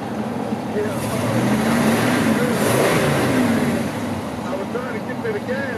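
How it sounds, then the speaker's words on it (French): A 1966 Chevrolet Caprice with its 396ci engine running, a loud, close, continuous engine drone rising gently as the throttle is blipped, with someone talking over it. "moteur en marche, tu vois. On accélère un petit peu"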